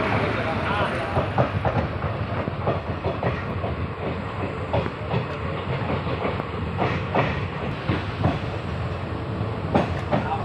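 A decorated passenger train pulling out of Budwal Junction bound for Daliganj on its inaugural run, with a continuous rumble and clickety-clack of wagons throughout and faint voices under it.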